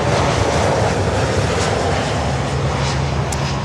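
American Airlines Boeing 737 MAX 8 arriving from Montego Bay, a loud, steady jet engine roar that stays close and constant throughout with no talk.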